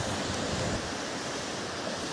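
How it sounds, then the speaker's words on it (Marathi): Sea waves break and wash near Murud fort off the Alibag coast in murky, rough water, a dense, continuous roar of surf mixed with wind noise, close and loud throughout. "लाट बघू शकता एक एक"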